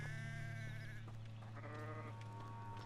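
Sheep bleat in a sheep pen in the video game Hogwarts Legacy, with several overlapping wavering calls over a steady droning game ambience and no talking.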